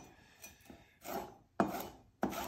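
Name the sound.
knife slicing onions and peppers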